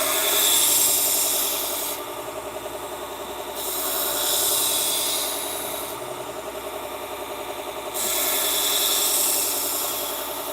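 A knife sharpened on a 120 grit abrasive belt or wheel, a steady loud grinding hiss over a motor drone that rises and falls as the blade passes are made, with no talking.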